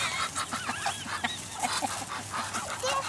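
Ducks being fed by a child quack and honk close by, with repeated, overlapping calls in irregular bursts over a low outdoor background and no talking.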